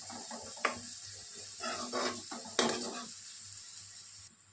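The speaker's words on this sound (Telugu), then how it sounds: "ఆనియన్స్ చక్కగా గోల్డెన్ కలర్లోకి వచ్చేసాయి కదా." Onions frying to golden in a pan for chicken handi, a soft steady sizzle with a few louder stirring scrapes and clinks against the pan, no talking.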